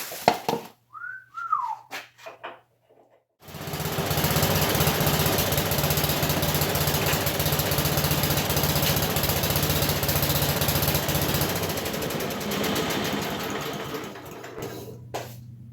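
A loud engine idles with a steady, rattling drone that runs for a long stretch, preceded by a few faint whistles and clicks.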